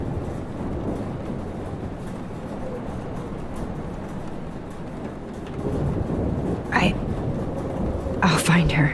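Thunderstorm in the Life is Strange video game, a steady wash of rain with deep rumbling thunder that swells toward the end, mixed with faint scattered sounds.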